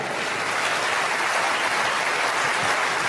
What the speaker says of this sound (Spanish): Tienen que aplaudir más que eso si lo crees.